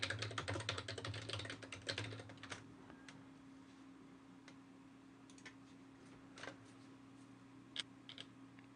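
Quick keyboard typing while a new file in an app directory is named, a dense burst of clicks over the first two and a half seconds, then sparse isolated key taps over a steady low hum.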